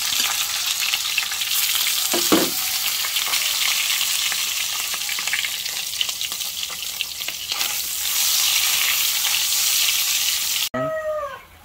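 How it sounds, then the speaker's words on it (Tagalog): Hotdogs sizzle and crackle steadily in a hot frying pan, a loud, continuous frying hiss with a brief clatter near the end. "Prito na po tayo ng hotdog."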